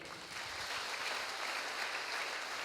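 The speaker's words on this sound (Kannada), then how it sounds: "ಚಪ್ಪಾಳೆ ತಟ್ರಿ ಅವನಿಗೆ" A crowd claps together in a steady, continuous burst of applause that holds at an even loudness from start to finish.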